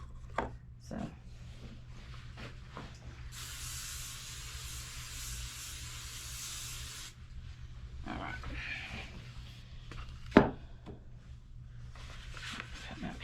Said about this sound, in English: I am going to give this a good spray with with my non-stick spray